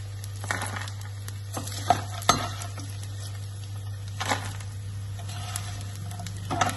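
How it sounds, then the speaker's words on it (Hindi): Crisp crackling and crunching of fried edible gum, with scattered sharp clicks and light clinks over a steady low hum. "ये जो करारेपन की आवाज़ है ये आनी ज़रूरी होती है"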